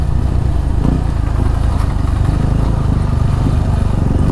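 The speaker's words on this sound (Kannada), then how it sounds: "ಓಕೆ, ನಾವು ಬೈಕಲ್ಲಿ ಹತ್ಕೊಂಡು ಹೋಗ್ತಾ ಇದ್ವಿ." A motorcycle engine drones loud and close with a steady low throb as the bike climbs uphill toward Karighatta.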